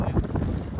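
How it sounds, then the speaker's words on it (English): Wind gusts buffet the microphone on a windy day outdoors, a low rumbling roar that runs continuously through the short moment. "It's a windy day."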